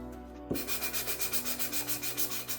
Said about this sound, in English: That's why we have sanding sponges.